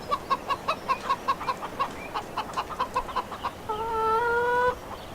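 Chickens clucking in the video game Farming Simulator 15, a rapid series of close clucks followed by a drawn-out squawk, with no talking.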